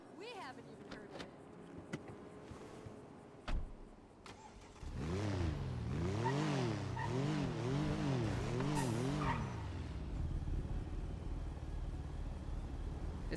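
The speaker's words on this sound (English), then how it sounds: "This car is way too rowdy, chat." In GTA V, a loud car engine revs repeatedly with rising and falling pitch while tires skid and squeal, following a few quieter clicks and thumps at the start.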